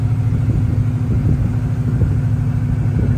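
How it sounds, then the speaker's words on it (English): A 1969 Oldsmobile Cutlass convertible's engine runs steadily at a smooth, even idle, a loud continuous low rumble heard close up with no talking. "Car sounds good."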